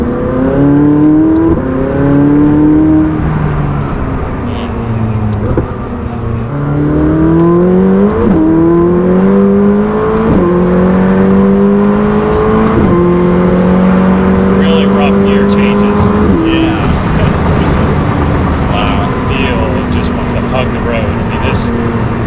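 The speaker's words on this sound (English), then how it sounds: "Now we're gonna get on the highway to see what this thing is like getting up to some speed" A 2019 McLaren 600LT engine revs and climbs through the gears on a highway, its pitch rising and dropping with each shift, loud and steady from inside the car.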